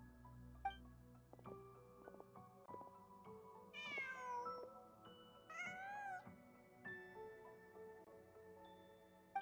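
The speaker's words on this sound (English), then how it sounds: "Huh. Just a cat." A cat in the Genshin Impact video game lets out two drawn-out meows over a steady layered music score, each call clear and close, spaced a couple of seconds apart.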